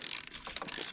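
A ratchet tightens a screw during ABS module repair on a 2005 VW Passat B5 2.8L: a quick, quiet run of close mechanical clicks lasting under a second.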